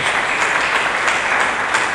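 A church congregation claps and applauds in a dense, steady burst of hand claps that fills the whole moment, loud and close, with no voices above it.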